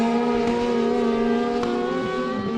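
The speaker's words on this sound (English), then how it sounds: "we hear the boom of the 3-cylinder Yamaha of McMullen in second place, and we actually hear him on the limiter" A three-cylinder Yamaha rallycross car at Mondello Park bounces off its rev limiter, a loud, sustained high-pitched engine scream with stuttering cuts as it races toward the south side.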